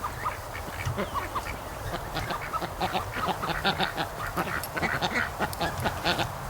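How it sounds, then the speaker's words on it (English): Ducks at a lake, including Muscovy ducks, call in a steady stream of quacks and honking calls from a flock, moderately loud and continuous. "Actually, I think that's a Muscovy way down there."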